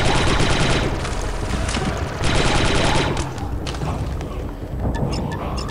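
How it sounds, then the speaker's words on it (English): Fusion rifles in the Star Wars: Republic Commando video game fire in dense, rapid bursts, loud and close, with gaps between volleys and lighter blasts trailing off near the end. "Those fusion rifles."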